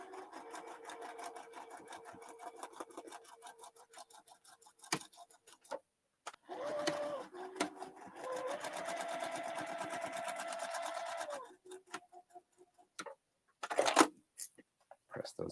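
Sewing machine stitching a foundation paper pieced pineapple quilt block, a rapid ticking run at first, then a longer steady humming stretch of stitching, with quiet handling gaps and a short loud burst near the end.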